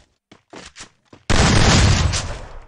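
Gunfire from the mobile battle game Free Fire bursts in suddenly after a few short clicks and thumps, a loud dense volley of shots that rattles on for over a second before tapering.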